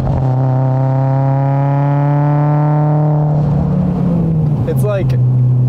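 A 700-horsepower Mitsubishi Evo engine roars loudly under turbo boost, its pitch climbing steadily as it accelerates, then dropping sharply at a shift with a brief chirp near the end.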